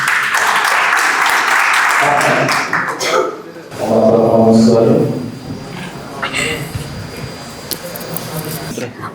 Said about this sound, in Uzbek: Klient jamoasiga olqishlar qo'yamiz.